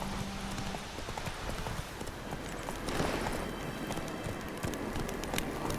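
A horse gallops in The Witcher III video game, with steady clip-clop hoofbeats running throughout, fairly loud and continuous over a dense background of ambient game sound.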